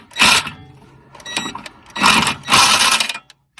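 A Ryobi power tool fitted with extensions works on BMW E36 suspension, firing in four short whirring bursts separated by brief pauses, loud and close.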